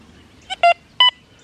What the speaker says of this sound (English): you do hear the tonal signature higher pitch on the quarter